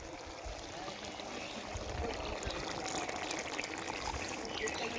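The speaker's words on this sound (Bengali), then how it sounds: "এইবার দিয়ে দেব এই গরম করে রাখা এই দুধটা।" Heated milk poured into chicken cooking in a pan, a steady close-up liquid pour and bubbling wash that runs for several seconds without interruption.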